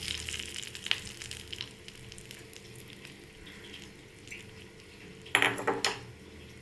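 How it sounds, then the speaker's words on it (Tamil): Tempering with curry leaves poured over crisp cassava bonda: a low steady frying sizzle with light utensil clinks, then a sudden bright sizzling burst near the end as hot oil hits, no voices. "இப்போ நம்ம தாளித்து ஊற்றிக்கலாம் நமக்கும் இதை ஊற்றிக்கலாம்"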